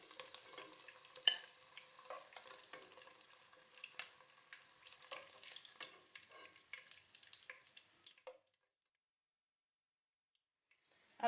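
Eggs frying in oil in a pan for a potato egg curry give a soft crackling sizzle with scattered clicks and stirring taps, fading to near silence toward the end before a brief sharp knock.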